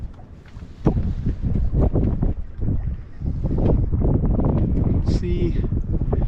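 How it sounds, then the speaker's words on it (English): Wind buffets the microphone aboard a sailboat on open water in October, a loud continuous rumbling roar that gusts and eases, with water noise beneath and a brief higher sound near the end. "The wind is a little fluky out here as it sort of comes and goes."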